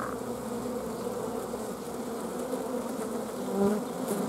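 A swarm of honey bees with their queen makes a dense, steady, close buzzing hum that continues without a break throughout.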